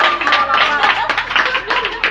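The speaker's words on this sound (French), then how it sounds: "Applaudis Juju." An audience claps for Juju at a street contest, loud and close with a quick, uneven rhythm, while voices talk alongside the clapping.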